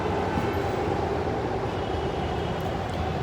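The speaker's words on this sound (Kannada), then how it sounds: "ಮೆಟ್ರೋ ಮುಂದಗಡೆ ಮೆಟ್ರೋ" A steady, loud rumble of a Bangalore metro train running past close by, a continuous roar with no breaks and no voices.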